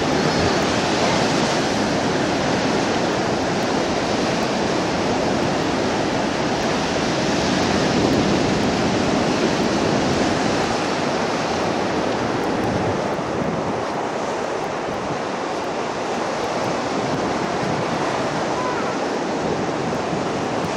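Ocean waves wash steadily onto a beach, a loud, continuous surf roar that fills the whole stretch with no break.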